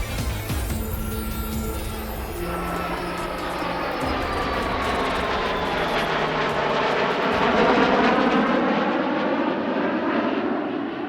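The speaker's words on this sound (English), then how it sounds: "They also joined up with an E-2C Hawkeye for a formation pass" French Navy Rafale M jets in formation with an E-2C Hawkeye pass at an airshow, a loud continuous roar of jet and turboprop engines with shifting, sliding tones as they fly by.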